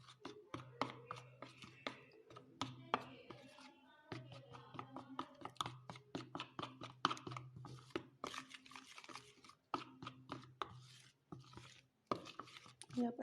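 Gram flour batter with turmeric is mixed by hand in a bowl, giving a quick series of close, soft scraping and slapping strokes in an irregular rhythm, quiet overall with brief pauses.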